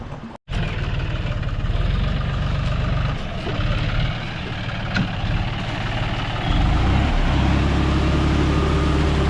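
A farm vehicle's engine runs loudly and continuously in a paddy field as it climbs onto an earthen bund, a low rumbling drone that deepens and strengthens toward the end.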